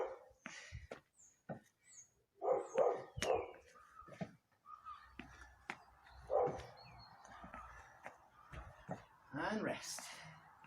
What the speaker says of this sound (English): Little bark in the background.